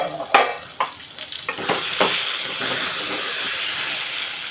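An eggplant fry is stirred in a covered pan, with a few loud spoon knocks and scrapes up front, then a continuous sizzling hiss of frying that settles into a steady hum close by.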